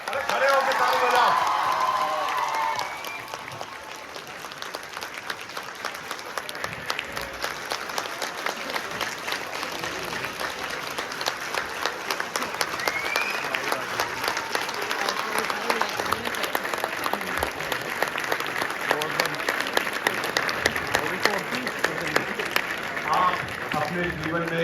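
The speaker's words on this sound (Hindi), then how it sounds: "अरे खड़े होकर ताली बजाओ।" An audience at a university seminar claps in a sustained, dense round of applause, louder at first and then holding steady with some scattered shouts and crowd noise mixed in.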